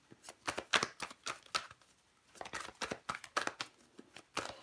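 Tarot cards being shuffled by hand, with a rapid run of crisp riffling and flicking bursts that pause briefly midway and then pick up again, close and fairly quiet with no talking.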